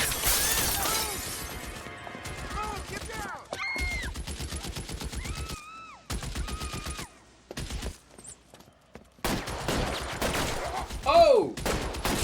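Gunfire from stolen weapons in LA Noire, bursts of shots and crashing impacts mixed with game music and tonal effects, rising and falling in loudness across the scene.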